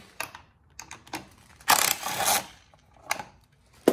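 A socket wrench with an 8mm socket works loose a fastener on the intercooler cooling duct of a Fiat 500 Abarth, giving a few quiet, close metallic clicks and one louder burst of scraping clatter.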